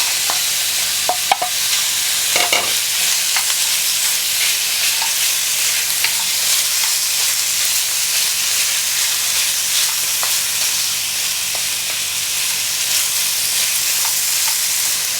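Onions fry in a pan for Japanese-style borscht, a loud continuous close-up sizzle and crackle with occasional clicks and light stirring scrapes near the start, and no voices.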